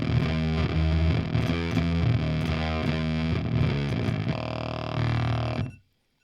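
A Fuzzrocious Croak distortion pedal with its preamp cranked hard into the filter roars with thick, buzzy fuzz as a guitar riff chugs rhythmically, then a held chord rings out before cutting abruptly to silence.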